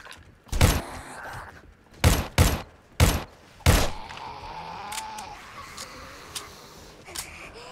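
Gunfire in the survival horror game 7 Days to Die, with four loud, sharp, spaced shots in the first four seconds. Fainter clicks and taps follow over a low background.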